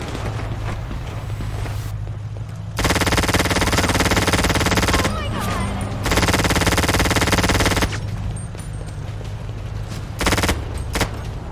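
Gunfire in the video game GTA during a roleplay fight: long loud bursts of rapid automatic fire, with two sustained volleys and a shorter one, over a steady low engine-like rumble and no talk.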